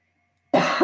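A single harsh cough bursts in after half a second of near silence, close and loud, with a second push at the end.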